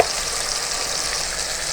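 Garlic ginger paste sizzles in hot oil with chicken for shaljam chicken, a steady, loud, even frying hiss that holds unbroken throughout with no voices.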